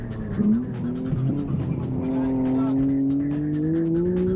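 A Nissan Skyline race car, suspension set up for street-car track competition, powers through a corner with a steady, rising engine drone and faint tire scrub, with a commentator talking over it.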